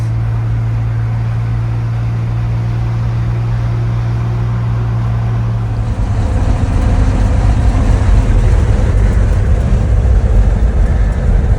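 A flatbed Willys Jeep truck driving with a new windshield fitted, its engine a loud steady low rumble that swells and grows rougher about halfway through, no voices.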